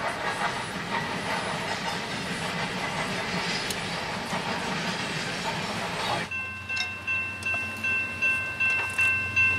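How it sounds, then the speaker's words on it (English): A CSX intermodal freight train led by a single locomotive rolls past at Fostoria, Ohio, as a steady loud rumble and hiss, then a rhythmic clickety-clack of wagons over rail joints takes over with a faint tonal hum. "This is our final train at Fostoria on the CSX Willard."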